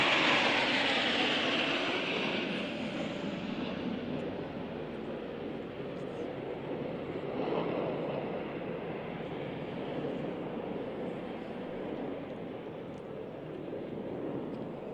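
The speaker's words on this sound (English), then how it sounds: "Your Excellency, those are multi-role fighter jets, the Sukhois." Sukhoi multi-role fighter jets fly past during a presidential inauguration ceremony in Uganda, a steady broad roar of jet engines that stays loud and sustained throughout, with a slight swell midway and crowd noise underneath.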